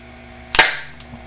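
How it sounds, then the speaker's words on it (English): Hydrogen gas from a small water electrolysis generator ignites in a single sharp, close pop. A short hiss trails away after it, followed by a faint tick. "There's a good explosion there."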